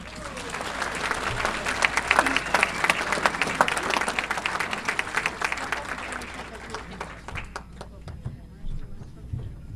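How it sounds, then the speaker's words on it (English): Warm audience applause at a chamber of commerce awards ceremony in Edison, New Jersey, dense and sustained clapping from a large crowd that thins and fades out over the final seconds. "I ask that everybody give a warm congratulatory applause for our leadership"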